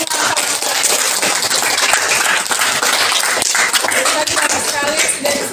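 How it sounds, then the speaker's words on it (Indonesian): Classroom applause during a chemistry lesson, a dense continuous patter of many hands clapping at once, loud and steady for several seconds with no gaps. "Kita berikan aplaus buat semua."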